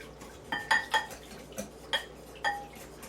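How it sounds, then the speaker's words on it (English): A spoon clinks sharply against a bowl while a Greek salad is stirred, about half a dozen bright metallic taps spread unevenly over a quiet background. "And all we're going to do is stir that up right now."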